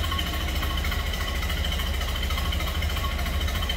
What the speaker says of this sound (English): Those inline four cylinders definitely have a distinct sound.